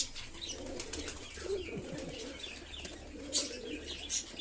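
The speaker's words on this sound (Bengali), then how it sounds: "এটা বাড়িরই পায়রা, কোনো হাটের পায়রা না" Domestic pigeons of the White Mukhi and Kaldoma Giribaz breeds coo in soft, low, rolling phrases that repeat steadily, with faint chirps and a brief wing rustle over a quiet background and no voices.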